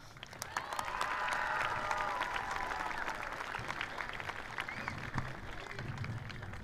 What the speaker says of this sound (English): Let's give our family a round of applause.